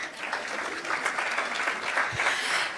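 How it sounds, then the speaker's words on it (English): A church-style gathering at an awards evening claps for a preacher, a dense, even burst of many hands at moderate distance, continuous and unbroken, with no speech over it. "Can we clap for the man of God?"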